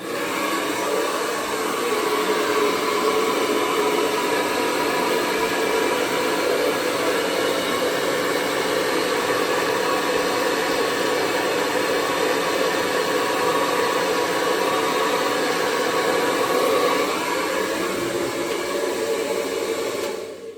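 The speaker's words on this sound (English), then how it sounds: "I'm going to turn on my very loud hairdryer." A hairdryer blows loudly and constantly at close range, a steady whooshing roar that barely changes before cutting off at the end.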